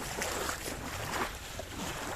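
Monsoon rainwater begins to flow outdoors with a steady, broad rushing roar. It stays fairly loud and even throughout, with no voices.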